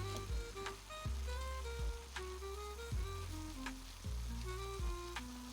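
Cabbage stewing in a pan sizzles and fries steadily, with continuous crackling and bubbling spatters close by, while music plays in the background, no talking.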